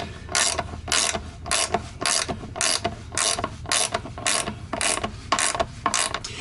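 A hand ratchet tightens the floor bolts of an RV toilet in a run of about a dozen close, crisp clicking bursts with short pauses between them, and nobody speaks.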